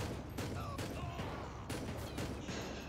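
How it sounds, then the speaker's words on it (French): Gunfire rings out in GTA 5 with the LSPDFR police mod, several sharp shots in bursts over steady background game noise across three seconds. "Là, c'est le chaos. Je tire sur tout ce qui bouge."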